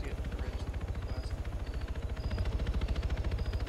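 Helicopter in a military tactics video game, a steady rapid rotor thump running loud and continuous throughout with faint high electronic beeps over it.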